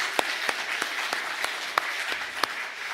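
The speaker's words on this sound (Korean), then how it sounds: "하나님께 영광의 박수 올리겠습니다" A church congregation at a Sunday worship service claps in a sparse, rhythmic pattern, sharp individual claps roughly every third of a second over a softer bed of scattered applause.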